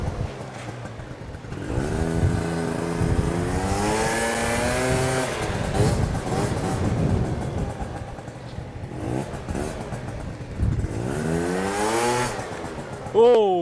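A Yamaha BWS 50 scooter fitted with Stage6 parts revs repeatedly up and down, a close, loud, buzzy two-stroke whine climbing and falling in pitch, with people speaking briefly over it.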